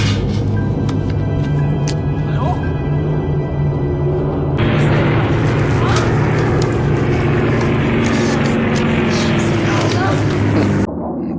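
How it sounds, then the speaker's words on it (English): Propeller aircraft droning overhead in a Band of Brothers war scene, a loud sustained engine rumble that swells midway and cuts off near the end, with voices talking over it. "Take care of him while the planes are going overhead."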